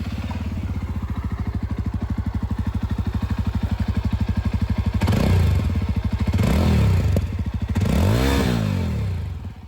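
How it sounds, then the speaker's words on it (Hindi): A Jawa 42 Dual Tone motorcycle idles with a steady low thumping beat through its twin exhausts, then is revved several times in rising and falling bursts, loud and close, with no talking. "सबसे पहले यहाँ पर जो एग्जॉस्ट साउंड है वो सुन लीजिए, क्योंकि यहाँ पर आप लोग को डुअल जो एग्जॉस्ट है वो देखने में मिल जाती है।"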